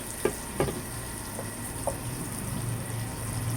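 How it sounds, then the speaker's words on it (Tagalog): Red onions sauté in a home kitchen pan, giving a soft, steady sizzle with a few light clicks of a utensil against the pan early on. "ginagasan na natin yung sibuyas na pula"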